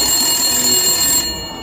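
Telephone ringing, a steady electronic bell tone that sounds loud and close and then cuts off near the end.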